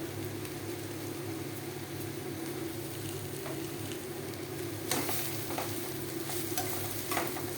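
Chow mein noodles stir-fried in a pan with chilli powder, Kashmiri red chilli and oregano, giving a steady, close sizzle with scraping stirs and a few louder clatters of the utensil against the pan.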